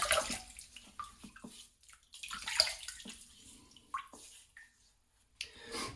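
Water splashes and drips in scattered soft bursts as a face is wetted with hands for a shave at a sink, close and quiet, with no talking.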